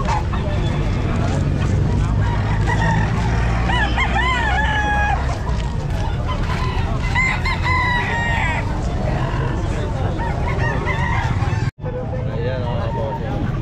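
A seven-month Lemon Sweater gamefowl rooster crows several times, loud and close, amid the crowd babble and vendor chatter of a busy outdoor pet market.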